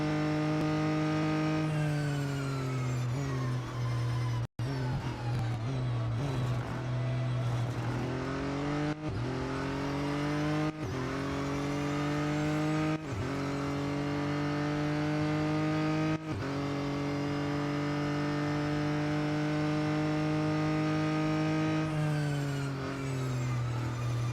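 A race car engine in the Real Racing 3 video game, running a time trial at Monza: a loud, sustained engine roar that climbs through the revs and drops back with each gear change. It is heard alone, with no voices.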